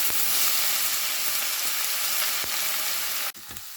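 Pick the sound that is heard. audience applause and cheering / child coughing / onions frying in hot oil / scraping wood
onions frying in hot oil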